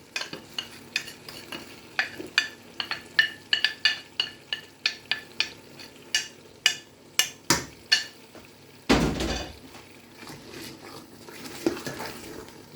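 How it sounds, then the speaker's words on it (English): Tomato stew with crayfish and onions being stirred in a pot, a steady run of sharp spoon scrapes and clinks ringing out at a regular rhythm, then a louder burst of sizzle and clatter near the end, with no talking. "So I will be stirring it for it not to burn"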